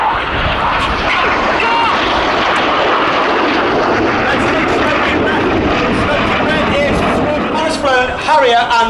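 Red Arrows jets of the Royal Air Force diving low at the Midlands Air Festival: a loud, continuous broadband jet roar that holds steady throughout, with a commentator's voice faintly underneath.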